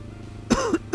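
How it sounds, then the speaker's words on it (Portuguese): A person coughs twice, close and loud: a harsh first cough, a brief throaty rasp, then a second sharp cough after a short pause, with a quiet background. "Desculpa a tosse."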